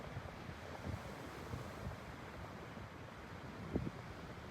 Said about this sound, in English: listening to the waves lapping against the shore